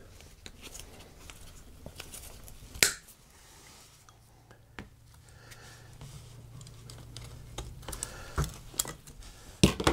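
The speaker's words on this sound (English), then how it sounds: "These here, you can just cut off, snap them out, and they'll come off." Clips snapped off a Chevy truck power steering rack during a teardown, heard as sharp, scattered clicks and snaps, with one louder crack early and a few more near the end.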